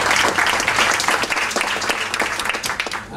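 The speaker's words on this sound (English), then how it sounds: "An applause for Magali, please." An audience at a travel and accommodation panel breaks into loud, dense, sustained applause to welcome a panelist, with no voices over it.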